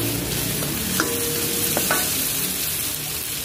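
Okra sizzles in a frying pan while cooking a Filipino coconut-milk fish stew with tomato sauce, a steady dense hiss of frying with a few brief clinks and stirring sounds, close and continuous without talk.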